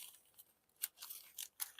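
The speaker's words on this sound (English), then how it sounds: "taking some stiff like butcher paper and crumpling it and just basically stamping the texture" Stiff butcher paper, crumpled and pressed onto an art piece to stamp texture along a rock edge: quiet, crisp crinkling crunches in three or four short bursts with soft rustling between.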